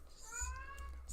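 A single short cat meow, rising then falling, fairly quiet and alone.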